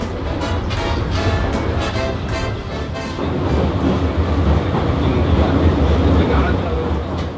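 Israeli hillside subway train climbing a steep slope on its 1.8 km line, with steady close rumble and rail clatter throughout and a voice talking over it.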